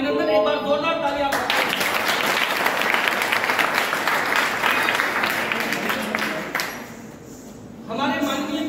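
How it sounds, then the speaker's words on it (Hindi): A theatre audience at a university event breaks into loud, dense applause lasting several seconds, with a person speaking just before it and again as the clapping fades. "एक बार जोरदार तालियां।"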